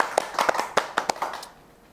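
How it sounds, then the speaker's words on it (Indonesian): Small group clapping hands at an Indonesian talk-show interview, a few uneven, close claps over about a second and a half, then fading to quiet. "Kita tepuk tangan loh guys."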